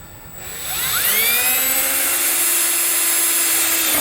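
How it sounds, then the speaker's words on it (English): A power drill spins up with a rising whine that settles into a steady, loud high-pitched grinding hum as it bores through the metal frame of a 2014 Chevrolet Malibu. "We're going to drill through the frame using that plate as a template."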